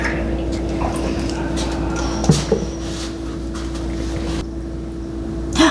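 A microwave warms milk for yogurt with a steady electric hum that runs throughout, broken by a few soft knocks and ending in a brief click.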